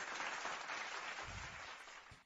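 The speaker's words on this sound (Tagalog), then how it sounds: "Palakpak sa mga sumagot ng sentences." Applause for students who answered during a live online Korean language lesson, a faint, brief spatter of clapping that fades out within a couple of seconds.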